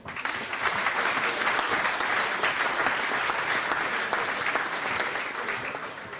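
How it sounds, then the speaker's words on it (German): Steady audience applause at a sports event in Schwerin, a dense, continuous wash of clapping heard at a moderate distance. "Applaus"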